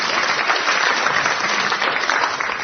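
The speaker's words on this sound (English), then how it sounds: "someone's going to clap" Studio audience at a quiz show breaks into dense, steady applause that fills the whole stretch at an even level.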